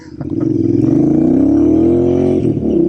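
A Royal Enfield Super Meteor motorcycle accelerates hard, its engine note rising steadily in pitch from a low rumble into a loud, smooth revving drone, close and alone with no speech.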